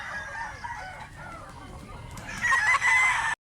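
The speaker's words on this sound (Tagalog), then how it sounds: "Napakagwapong buston" A rooster of the Milsim Black bloodline crows in a rural Cebu setting, one drawn-out call rising loud and close near the end over a low outdoor background.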